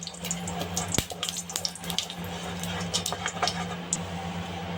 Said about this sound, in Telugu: తర్వాత వాటర్ వేసాను